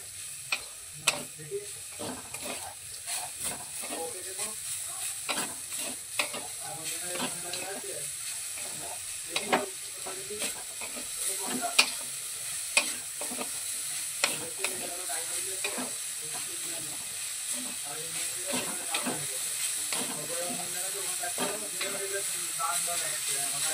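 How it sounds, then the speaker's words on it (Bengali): Grated coconut and sugar stirred in a sizzling pan for a kesar mawa modak filling: repeated spoon scrapes and clacks over a constant soft hiss of cooking, close and clear. "চিনিটা দিয়ে নারকেলটা খুব ভালোভাবে নাড়তে থাকবো।"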